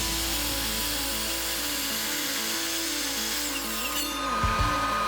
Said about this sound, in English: we're going to use the miter saw to trim off all the edges to make sure everything is nice and square